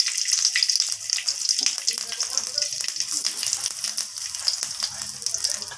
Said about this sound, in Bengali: এরপর ফোড়নটাকে একটু ভাজা ভাজা করে নেব কয়েক সেকেন্ডের মতো